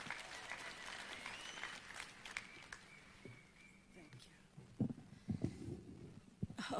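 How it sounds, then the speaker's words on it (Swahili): Crowd applause at an outdoor public event with the President and other leaders in Wote, Makueni County, a steady clapping wash under an amplified announcer's voice, with louder bursts toward the end. "Simumpigie makofi."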